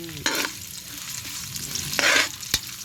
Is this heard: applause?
no